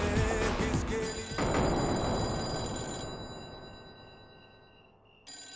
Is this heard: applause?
no